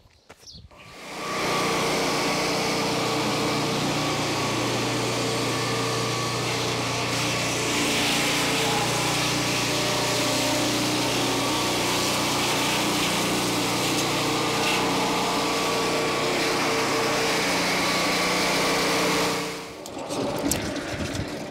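Turbosawmill sawmill reverse-sawing a small log back toward the operator, a loud steady engine-driven whine and cutting roar that holds for about eighteen seconds before stopping, with no talking.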